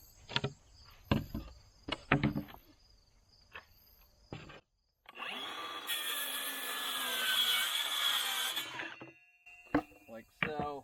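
Scrap plywood being hand-sawn during a garage foundation repair, a steady rasping stretch of several seconds between brief knocks and handling clatter, with a voice speaking before and after.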